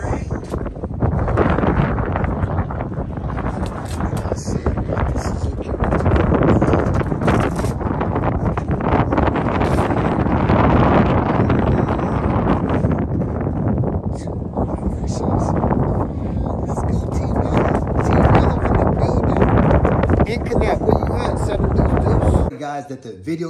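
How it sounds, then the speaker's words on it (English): Heavy wind blasting straight into an outdoor microphone, a loud continuous roar of buffeting gusts lasting over twenty seconds before cutting off abruptly. "As you guys can hear, the wind was very, very windy."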